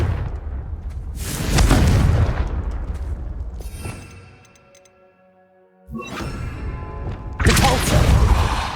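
Confringo fire spell blasts in Hogwarts Legacy: heavy booming bursts with rumbling low end, the first around two seconds, a quieter gap with a ringing magical tone, then renewed loud blasts near the end.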